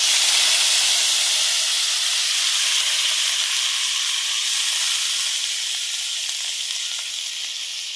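Vegetables hit a hot pan and sizzle steadily, a loud, bright, continuous frying hiss with steam that slowly eases over several seconds, close and with no talking.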